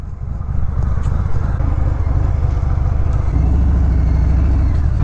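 A 2019 Harley-Davidson Fat Bob motorcycle rides past with a loud, steady, deep engine rumble, its exhaust note growing slightly heavier toward the end.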